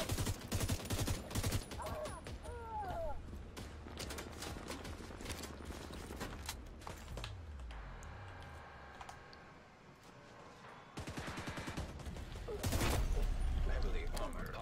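Minigun fire in the video game The Division 2, dense rapid bursts of gunfire that come and go, with a lull mid-clip before another loud burst, heard under players talking.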